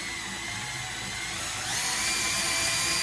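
A power drill turning the engine oil pump of a 1929 Pontiac Big Six whines steadily and continuously, its pitch rising slightly partway through, loud and close with no talking.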